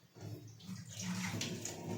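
Water poured off soaked, swollen chickpeas, a steady splashing stream running close by for the whole stretch with no talk over it.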